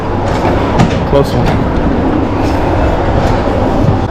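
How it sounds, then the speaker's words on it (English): A train in Bulgaria starting to move, heard from inside the carriage: a steady low rumble with occasional clanks and knocks, while people talk briefly nearby. "I think the train's moving now."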